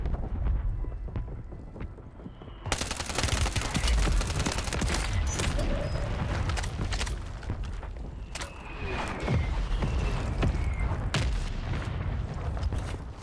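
A barrage of mortar shells from a mortar strike in the Warzone game, with repeated booming impacts and crackling gunfire layered thickly over several seconds after a quieter opening.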